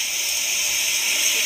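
Chicken stock hits a preheated pan and throws up steam, giving a loud, steady broadband hiss that holds evenly for the whole moment, close up and without talk.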